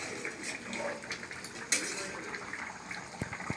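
Chicken curry with potatoes simmering in a covered pot, a soft steady bubbling and hiss with faint clinks of metal, heard close up at low volume.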